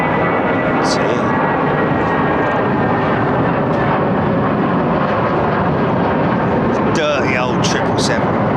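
A Boeing 777 climbs out overhead from runway 09R at London Heathrow, its loud, continuous jet engine roar filling the whole stretch while people talk over it.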